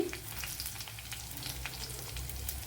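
Garlic cloves and a small piece of ginger sizzle in hot oil in a pan, a close, continuous crackling fry with scattered pops and no voices.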